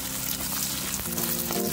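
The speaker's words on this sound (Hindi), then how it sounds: "फिर हम इसमें अपने ये डाइस किए हुए अनियंस डालेंगे।" Diced onions frying on full flame in a pan with chopped garlic and ginger for gobhi manchurian, a steady close sizzle with faint stirring throughout, no talk.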